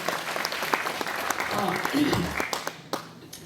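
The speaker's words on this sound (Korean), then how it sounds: "박수 한번 보내주세요" An audience at a maritime literature award ceremony claps in a moderate, scattered burst of applause, mixed with talk from the stage.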